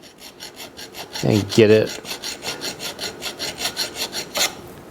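A freshly cut metal handlebar dead end piece for a KTM, Husky or GasGas bike being filed straight by hand, a run of rhythmic rasping strokes, close and even, with a few words spoken briefly early on.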